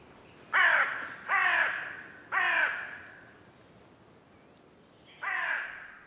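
A crow cawing near a house beside a forest: four loud, harsh caws, three in quick succession and one after a pause, each clear and close against a quiet background.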